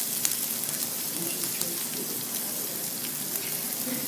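Local California Gilroy garlic sautés in a pan, giving a moderate, even crackling sizzle with scattered small pops throughout the short stretch, with no talking over it.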